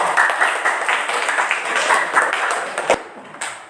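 A group of people clap their hands in applause during a floor gymnastics lesson, a dense, steady patter that fades near the end and is followed by a sharp tap.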